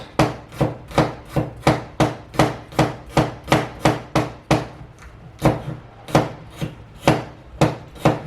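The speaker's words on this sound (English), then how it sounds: "I'm going to try to chop it up as fine as I can, just like the rest of the ingredients" Vegetables for coleslaw being chopped finely by hand with a knife on a board, a steady run of sharp, close knocks roughly three per second with a short pause midway, no talking.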